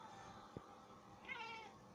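A black cat gives a low, deep meow, a single drawn-out call that is fairly faint in a quiet room.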